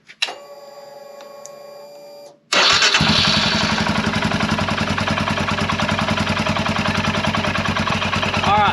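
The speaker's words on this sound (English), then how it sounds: "what we're going to do is crank it up and let it run down a little bit" A 2021 Royal Enfield Himalayan motorcycle is cranked over and its engine catches, then idles loudly and steadily close by with a rapid, even thumping after a short whirring start.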